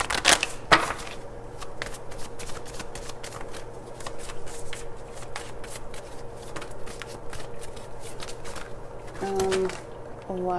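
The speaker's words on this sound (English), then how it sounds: "Why am I shuffling this deck?" A deck of tarot cards is shuffled by hand, with rapid riffling and flicking bursts repeating throughout, close up and fairly soft, with brief quiet gaps between passes.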